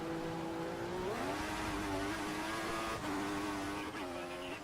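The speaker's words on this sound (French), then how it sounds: "le moteur de la Ferrari doit donner de la voix" Ferrari race car engine from a GP3 race at the USA circuit, a sustained high-pitched whine with rising and falling revs through gear changes, loud and continuous, with a second faint high tone above.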